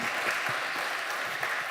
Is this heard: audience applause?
yes